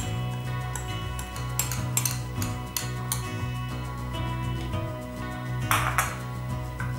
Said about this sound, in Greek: και τα ανακατεύουμε όλα καλά